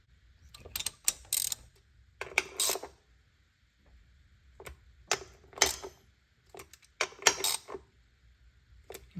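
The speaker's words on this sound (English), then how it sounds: "we could go ahead and torque down our fuel rails" Wrench clicks and metallic ratcheting while torquing down the fuel rail bolts on a Mazda FC3S RX-7 rotary engine, arriving in short bursts separated by pauses, fairly close and moderately loud, with no talking.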